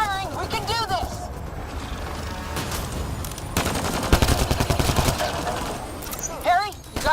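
Sci-fi gunfire in Mass Effect Andromeda crackles in dense rapid bursts during a battle, with shouted voices between and over the shots, loud and close throughout.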